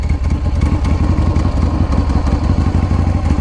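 A custom-built motorcycle engine runs up close, a loud, steady rapid thumping idle with clattering mechanical texture throughout.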